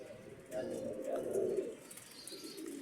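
Domestic pigeons coo softly at close range in low, rolling bursts, with faint background voices and outdoor ambience around them.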